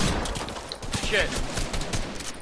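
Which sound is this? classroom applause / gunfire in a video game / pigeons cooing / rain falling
gunfire in a video game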